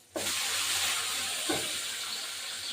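Liquid is poured into a hot pan with tomato while cooking coriander chicken, starting abruptly as a steady close hiss and rush that holds to the end with no talk.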